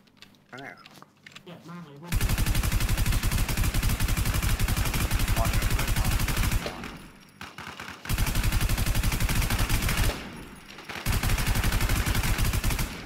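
Rapid automatic gunfire in a video game, loud sustained bursts of several seconds separated by brief pauses, with someone talking over the shooting.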